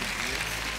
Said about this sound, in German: Applaus für die zwei